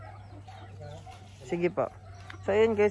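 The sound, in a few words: chickens at grandfather's farm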